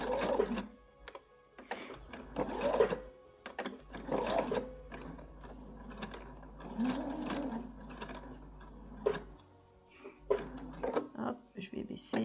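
A domestic sewing machine runs back over an existing seam while a dress is being sewn, making rapid mechanical stitching bursts in short runs with pauses between them. Someone talks close by throughout, over a steady low hum.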